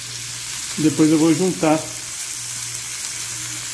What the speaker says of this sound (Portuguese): Eu vou saltear um pouquinho os nossos cogumelos aqui, rapidamente.